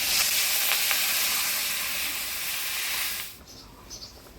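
Water poured into a pan of sautéed potatoes with cumin, ginger, chili paste, turmeric and salt, giving a loud, sustained hissing sizzle that abruptly drops away to quieter bubbling near the end.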